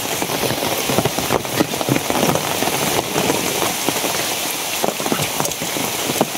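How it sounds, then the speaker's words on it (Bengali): Steady rain falls outdoors, a dense close patter of drops hitting surfaces with scattered louder splashes, continuous and fairly loud throughout, with no voices. "আবার নামছে বৃষ্টি"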